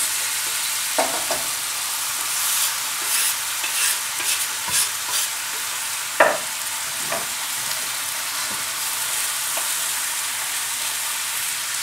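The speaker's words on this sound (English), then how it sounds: "So while the beef is cooking, I'm going to add your onions to this." Onions added to beef in a hot pan sizzle steadily while a utensil stirs and scrapes through them in intermittent strokes, close and clear with no talking.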